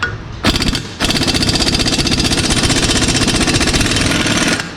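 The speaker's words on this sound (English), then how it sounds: "I guess I'll try the impact one more time." An impact wrench hammers at a vehicle hub during disassembly on an MK3, with a short opening burst and then a loud, continuous rattling run of rapid blows lasting several seconds, close up.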